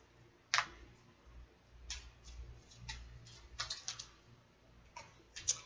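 Tarot cards being laid out on a table make soft, scattered clicks and taps. The brief contacts come at irregular intervals over a quiet room with no talking.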